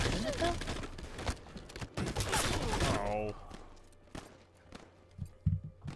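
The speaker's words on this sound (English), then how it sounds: "I hear gunshots." Rapid bursts of gunfire in Halo 5 Infection mode crackle amid chaotic in-game sounds, with some voices in the mix, loud at first then sporadic shots further off.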